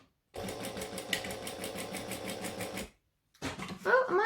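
A sewing machine stitching a bag, a close rapid rhythmic clatter for about two and a half seconds, a brief pause, then a short second burst with a faint high squeak.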